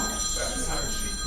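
A mobile phone rings in a lecture hall audience, its steady electronic tone running the whole time under low room murmur and faint voices.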